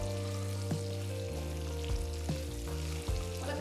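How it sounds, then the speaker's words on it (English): Shallots, curry leaves and drumstick pieces sauté in a kadai for an Andhra-style brinjal drumstick curry, a steady close sizzle and frying crackle broken by a few clinks and stirring scrapes. "Give it all a quick mix and cook the drumsticks for about 5 minutes."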